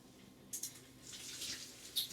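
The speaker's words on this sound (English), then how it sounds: "we're going to drain them of that water, okay? Right into our sink, very carefully" Hot potato cooking water pours from a pot into a kitchen sink, a soft splashing rush with a couple of sharper sloshes, fairly quiet and without talk.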